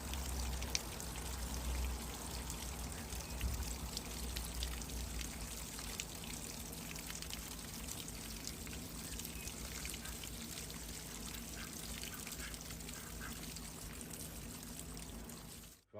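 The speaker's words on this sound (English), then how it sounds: "So I'm just running the water through to clear all the dust out" Water poured and running steadily through soil in a bonsai pot, draining out the bottom with a constant trickling, splashing wash that stays even and close for the whole stretch before cutting off.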